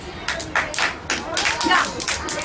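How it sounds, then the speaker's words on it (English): A group of children clap together in a classroom lesson, several bursts of quick, close hand claps in an uneven rhythm, with faint voices around them. "Clap."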